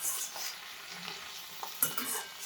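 Fenugreek leaves fry in hot oil for a Gujarati lasuni methi dish, giving a quiet, continuous sizzle. A spoon scrapes and stirs in short, sharp strokes, and nobody speaks.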